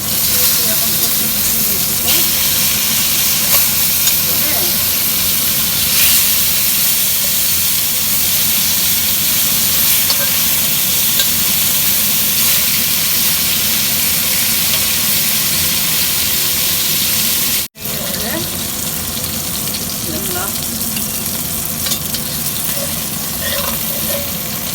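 Pieces of rohu fish fry in a pan of hot oil with a continuous close sizzle and hiss that keeps up throughout, broken only by one brief dropout.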